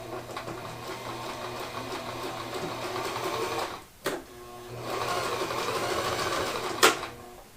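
A sewing machine stitches in a steady rapid whir, pauses briefly, then runs again before a sharp click near the end, fairly close and moderately quiet.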